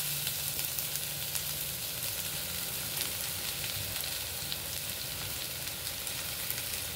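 Boiled, hand-mashed potato pieces sizzle steadily in a hot pan as they are added for a masala dosa filling, giving a dense, continuous close frying hiss with no speech.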